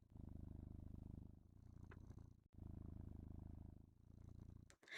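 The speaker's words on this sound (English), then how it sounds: "Could you hear me purr?" A catgirl ASMR purring effect plays as a soft, close, rumbling purr in two long continuous stretches separated by a brief pause.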